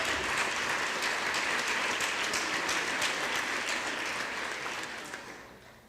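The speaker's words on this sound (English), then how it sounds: "one more round of applause for your 2017 Missouri Valley Conference All-Conference First Team" Sustained applause from a banquet audience honoring the 2017 Missouri Valley Conference softball all-conference first team, a dense steady clapping that holds strong for about five seconds before fading out.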